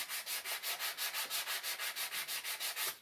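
Wooden chair hand-sanded with 180 grit sandpaper, a close, steady back-and-forth scratching rasp of about sixteen even strokes, with no voices.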